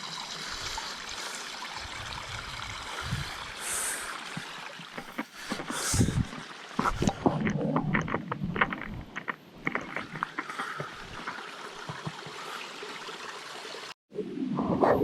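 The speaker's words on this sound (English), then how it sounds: "Water's running down. Making the sound of the waterfall here." Water running down a small waterfall into a creek on a Swan Valley trail at Bells Rapids, a steady rushing trickle heard close by with scattered knocks and rustles, no talking.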